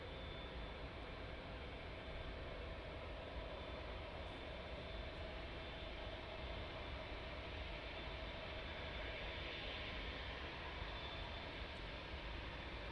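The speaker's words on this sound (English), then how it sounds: "the 747 is rolling" A Boeing 747 rolls for takeoff at East Midlands Airport at night, a steady distant engine roar that holds evenly throughout with no voices.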